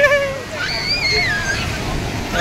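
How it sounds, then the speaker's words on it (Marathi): Sea waves wash steadily onto the sand at Diveagar beach in India, a continuous churning surge running through the whole moment while raised voices and excited calls ring out over it. "लाटा येतात इकडे."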